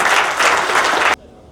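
A crowd at a tree plantation event at Shree Agarsen Dham claps in a loud, dense burst of applause that cuts off abruptly after about a second.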